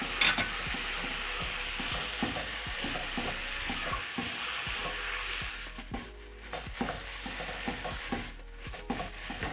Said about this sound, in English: Add tomato paste. Stir.